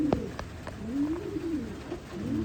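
Soft, low pigeon coos repeat in a gentle rolling rhythm, fairly quiet and close, with a few faint clicks.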